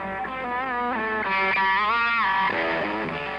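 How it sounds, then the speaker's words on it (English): A Parker electric guitar with a heavy, distorted tone plays a sustained, bending melodic phrase, loud and upfront with no voices. "They are the aggressive sound of an electric guitar"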